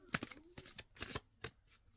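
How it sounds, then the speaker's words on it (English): Tarot cards being shuffled by hand, several quick riffling bursts of soft papery flicks at close range, fairly quiet with no speech. "Oh, I'm still not the best shuffler."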